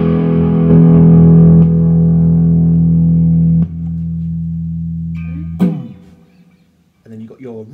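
A sustained distorted electric guitar chord through a Laney TT50 amplifier with volume boost rings out loud, then a second chord, ending in a sharp strum and a few clipped, choppy stabs.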